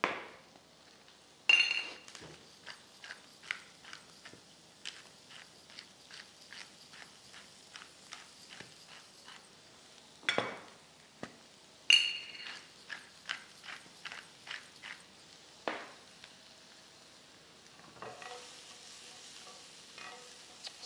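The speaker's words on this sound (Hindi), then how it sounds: "नरम हाथों से चम्मच को यहाँ पे रखते हुए इसको सोते कर लेंगे।" Steak and vegetables sauté in a pan while a spoon stirs them, giving a quiet sizzle broken by a long run of light, regular clicks and scrapes of the spoon against the pan.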